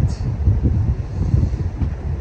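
Strong wind of force 6 gusting to 7 roars at sea aboard a sailboat near rocks in Turkey, a loud, continuous low buffeting rumble over the microphone with no voices.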